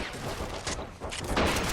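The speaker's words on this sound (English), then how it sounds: "the Sten MKVI silencer, ripping through them quite easily" A silenced Sten MkVI fires in the Men of War: Assault Squad 2 battle game, a rapid muffled rattle of bursts layered over other distant gunfire and explosions in a busy skirmish.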